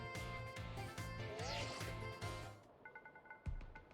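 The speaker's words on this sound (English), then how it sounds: "Zyros, your phone's ringing." Phone ringing in Pokemon Scarlet, a chiming in-game ringtone pulsing in a regular pattern over light background music, then a few short repeated tones and a soft thud, with no talk.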